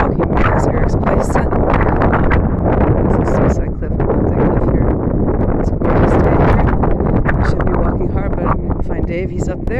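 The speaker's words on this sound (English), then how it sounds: "It's cool out, windy, perfect." Wind blows hard across the microphone outdoors on a cool day during a walk, a loud constant rumble with gusty surges, while people talk over it.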